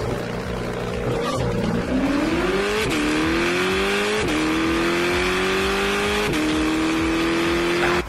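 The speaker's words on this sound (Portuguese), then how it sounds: "Como será que é o launch control desse Corvette" A Chevrolet Corvette launches under launch control, its engine revving hard and climbing through several upshifts, each marked by a sharp break and drop in pitch before rising again, loud and close with no talking.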